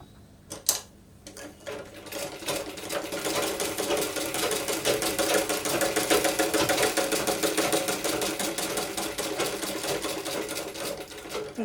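Sewing machine stitching a rolled hem along the lower edge of a toddler's A-line frock, running as a steady rapid needle clatter for about eleven seconds after a brief start, with no talking.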